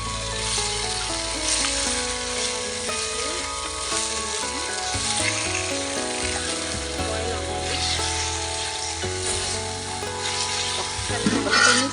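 Chicken sizzles in a curry pan over a village cooking fire while being stirred, a steady loud crackle with scraping stir strokes throughout and a brief clatter at the end.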